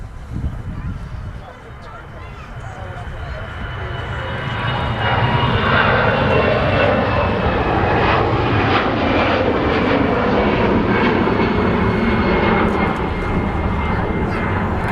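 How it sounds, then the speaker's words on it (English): An EasyJet Airbus A320 jet rolls down the runway at Manchester Airport, its engine roar building from a distant hum into a loud, steady, broadband rush that holds to the end. "EasyJet A320 rolling."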